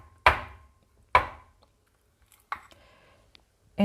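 A spoon drops dessert into a glass in three or four soft, separate thuds with brief scraping between them, close and quiet with no talk.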